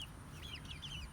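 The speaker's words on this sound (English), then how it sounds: "Here are our chickens" Backyard chickens near a garden chicken track, giving a few faint, high chirping clucks over a low steady background hum.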